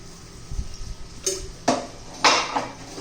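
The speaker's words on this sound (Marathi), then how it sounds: "त्यात अजून थोडंसं तेल घालूया आपण" More oil going into a pan during home cooking of a ridge gourd dish, heard as a few metallic clanks and scrapes of a utensil against cookware that come close together and get louder toward the end, with no speech.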